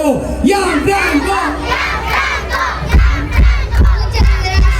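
Crowd at a live show loudly chanting the name Gianfranco in rhythmic, repeated shouted bursts, many voices together, with heavy low thumps joining in the second half.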